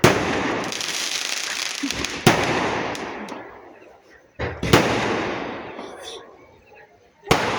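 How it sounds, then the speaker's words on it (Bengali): Firecrackers and fireworks go off at a wedding celebration, dense crackling bursts rolling on and fading, then sharp loud bangs punctuating the quieter stretches, with people talking in the background. "বাবা কত বাজি ফাটাচ্ছে।"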